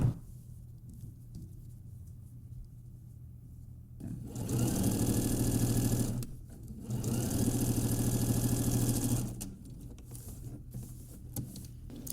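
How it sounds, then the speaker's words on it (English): An overlocker serges the seam of Maisy shorts, sounding in two steady whirring runs of about two and a half seconds each with a short pause between, framed by quiet handling noise before and after. "And we overlock it."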